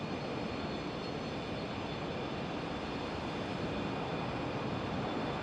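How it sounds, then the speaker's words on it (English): An American Airlines Boeing 737-800 on short final to land at Phoenix Sky Harbor, a steady, broad engine roar holding at an even level throughout, distant and unbroken, with no speech. "American Airlines 737, looks like an 800 here."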